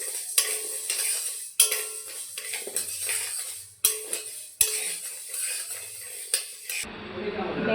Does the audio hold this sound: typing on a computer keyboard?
no